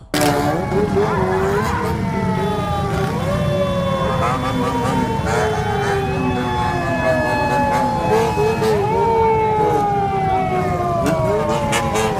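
A police car's wailing siren rises and falls continuously at night over a loud, steady rumble of motorcycle engines and traffic, with several overlapping siren tones.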